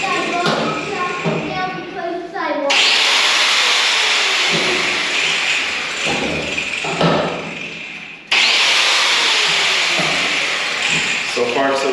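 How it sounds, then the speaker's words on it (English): A power grinder plugged into a newly wired workshop outlet whines up loudly and runs in two long bursts, stopping briefly in between. "So I'll probably just plug a grinder in there."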